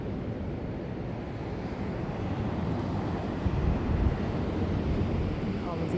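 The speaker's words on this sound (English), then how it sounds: "The ocean." Ocean waves and surf at a beach on Hatteras, a broad steady wash of noise that swells slightly midway, mixed with wind rumble on the microphone.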